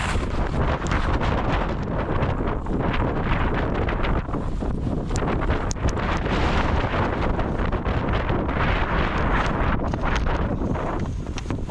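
Storm wind buffets a GoPro mounted on a pole, a loud continuous roaring rumble of wind against the microphone with no let-up.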